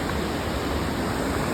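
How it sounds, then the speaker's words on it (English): Steady broadband rush of water running along a wet, root-covered creek trail beside a large river, continuous and fairly loud with no break. "There's like constantly water going through the trail here."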